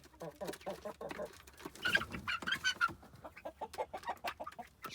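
Hens in a chicken tractor housing chicks cluck and murmur close by in a busy run of short calls, with a few louder squawks in the middle and faint chick peeps mixed in.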